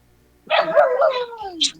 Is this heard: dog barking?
yes